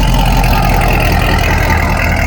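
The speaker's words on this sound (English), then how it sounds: "Got the Corsa exhaust." A 2013 Chevrolet Camaro ZL1 engine with a Corsa exhaust idles with a deep, steady rumble, loud and close, with no speech.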